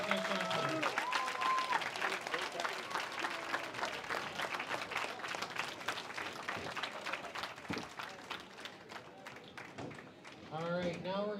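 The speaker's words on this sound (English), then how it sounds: "a round of applause to your 2026 Youth Challenge National Champions." A crowd at the 2026 Youth Challenge Nationals applauds the national champions with rapid, sustained clapping that thins toward the end, while a voice speaks over it at the start and close.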